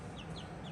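Golden laced hens cluck in a chicken run, a quick series of short, high, chirpy clucks heard close up over a dense background hiss.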